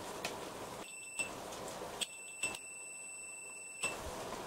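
A multimeter on continuity gives short electronic beeps while probing an amplifier board in a Philips N4308 reel-to-reel tape recorder, several brief high tones at irregular intervals over a quiet bench background.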